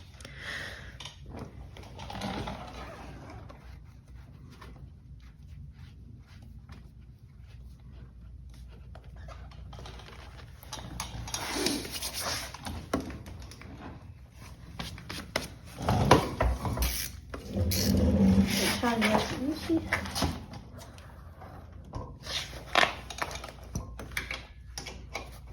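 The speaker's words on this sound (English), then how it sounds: "we'll screw this back in, make sure it's tight" An oil drain plug is screwed back in and tightened on a modified Predator 212 small engine, giving faint scraping and metallic ratchet-like clicks that grow louder in short bursts during the second half.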